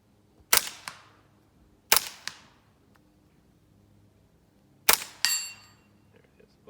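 Three sharp, moderately loud shots from a suppressed Smith & Wesson M&P 15-22 rifle at an outdoor range, spaced unevenly with quiet gaps between them, each followed by a brief metallic ring or target clang.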